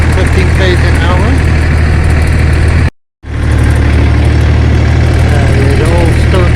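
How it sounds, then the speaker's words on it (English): Vehicle engine chugging along slowly at around 10-15 km an hour on the way to the Guano Caves near Montague, a loud steady low rumble with a brief cut in the middle and someone talking over it. "Chugging along, pretty slow, maybe 10-15 km an hour."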